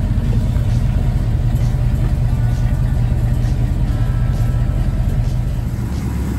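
A 1962 Ford Falcon with a 144 engine and two-speed automatic runs steadily nearby, its loud, even rumble continuing unbroken throughout.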